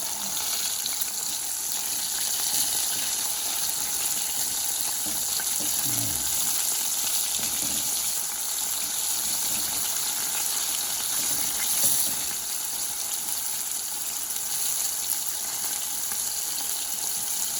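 Orange chicken pieces coated in cornstarch fry in hot oil, a steady broadband sizzle that holds evenly throughout at moderate level, with faint low clatter of turning pieces.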